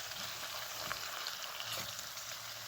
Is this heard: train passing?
no